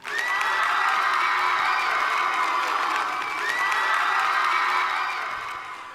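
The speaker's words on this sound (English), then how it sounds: "big round of applause" An audience at a live talk erupts in loud, sustained cheering and whooping, a dense crowd roar with a few rising shouts, swelling twice over several seconds.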